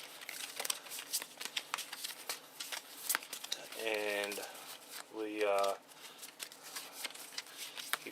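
Eldritch Horror board game cards being shuffled by hand, with repeated crisp riffling bursts and soft flicking, close and fairly quiet, while a person speaks briefly in between.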